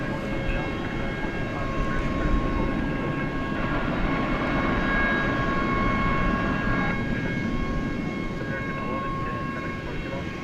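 An American Airlines A320 passes at DFW Airport at night, a broad, steady jet roar heard from a distance for about ten seconds, with faint whining tones riding over the rumble.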